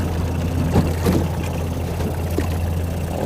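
Boat engines drone steadily on a river where an angler is jigging an eddy, a low continuous hum with a faint passing motor running underneath throughout.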